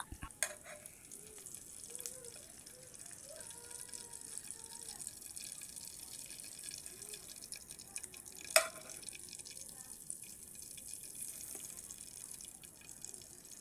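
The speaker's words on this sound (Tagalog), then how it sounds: "gipitik-pitik pa ng mantika" Oil sputtering in a pan as an egg fries, a soft continuous sizzle dotted with small pops and one sharper crackle, quiet and close with no talking.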